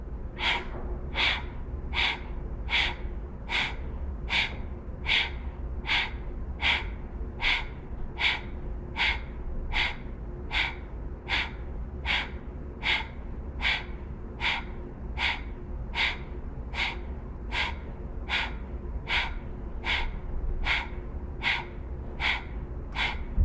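Rapid pumping breaths in a breathwork meditation, a long, even series of about two dozen forceful breaths through the nose and mouth, close and regular at roughly one per second.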